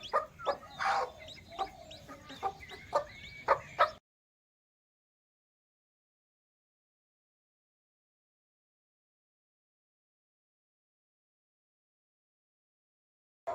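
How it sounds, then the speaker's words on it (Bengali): Chickens cluck and call close by in short irregular bursts for a few seconds, then fall silent. "আমি আপনাদের দেখাবো আরও মুরগি আছে।"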